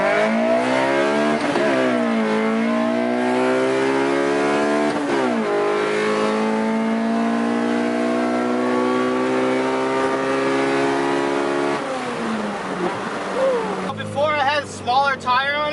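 A Nissan with an SR20VE engine revs hard and accelerates through several gear changes, its loud rising whine climbing again after each shift, close by, with excited voices at the end.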